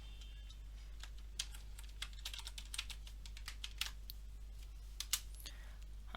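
Typing on a computer keyboard, a quick irregular run of soft key clicks, close but faint over a low steady hum, with no speech.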